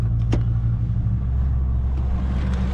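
A farm truck engine idles in neutral, a loud, steady low rumble close by, with a brief sharp click near the start.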